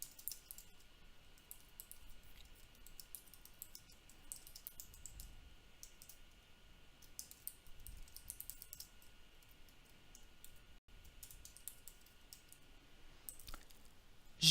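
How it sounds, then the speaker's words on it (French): An email is typed on a computer keyboard, giving quiet, irregular clusters of key clicks with short pauses, close and faint, with no talking. "et je n'ai plus qu'à taper mon mail"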